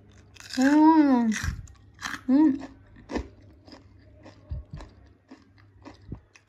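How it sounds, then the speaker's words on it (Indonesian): Another piece of crispy fried tofu (tahu kriuk) gets a close, crackly bite followed by a few scattered chewing crunches, with the eater's voiced sounds over the start. "Coba kita tes kriuk lagi yang ini ya."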